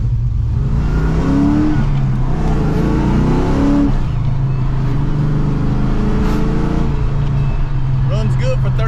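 A Foxbody Mustang engine fitted with a Vortech supercharger and 39-pound injectors runs loud and close, rising and falling through several revs with a whining, droning tone, while someone talks over it.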